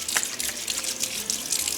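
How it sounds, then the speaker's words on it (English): Water runs from a kitchen tap as a salt-covered hand is rinsed under it, a short splashing hiss with small irregular spatters, close and fairly loud, no voices. "she's going to rinse her hand off again because she's got salt all over her hand now"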